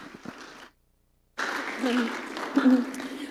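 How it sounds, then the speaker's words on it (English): Audience applause after a prayer at a church gathering: a short burst of clapping, a brief silence, then a longer round of steady, fairly close clapping that swells toward the end. "could we give her a round of applause?"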